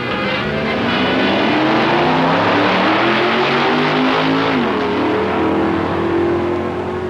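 Stock class drag racing cars at the 1964 Indy Nationals, loud roaring engines at full throttle with rising revs and a gear change partway through, steady dense racing noise with no talk.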